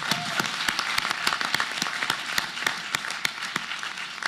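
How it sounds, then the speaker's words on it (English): Audience applause at a Southern California transportation roadmap meeting, a faint, distant patter of many hands with a few sharper individual claps standing out, and no talking. "All right, that deserves applause."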